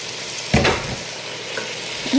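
Boiled goat meat hits oil spiced with ginger, cumin, turmeric and chili, giving a sudden burst of sizzling that settles into a quieter hiss, with a brief stir near the end.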